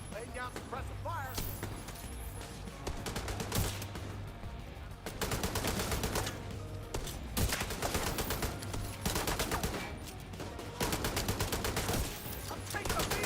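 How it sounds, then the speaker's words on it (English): Sustained suppressive gunfire in The Division 2 rattles in long, dense automatic bursts, loud and close, with brief pauses between volleys and mixed game noise underneath, no voices on top. "Laying down suppressive fire."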